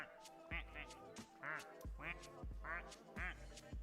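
Repeated nasal duck quacks from a video game come in a bouncy, uneven rhythm, several calls in quick succession, close and fairly loud.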